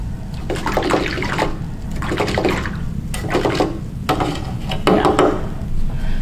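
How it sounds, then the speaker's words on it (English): Paintbrush swished and rinsed in a small cup of water during an acrylic painting session, four short bursts of splashing and clinking against the container with brief pauses between. "I'm gonna clean my brush."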